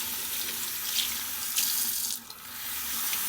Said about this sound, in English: And I'm going to run it with warm water.